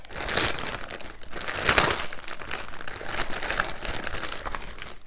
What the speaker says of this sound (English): all the crinkling is going to happen because I have not opened this and brought it out yet